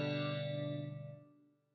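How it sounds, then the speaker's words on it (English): Guitar run through a reverb effect pedal on a pedal board: a single sustained chord rings out with a shimmering, spacious tail that slowly decays and fades away. "this is adding some reverb"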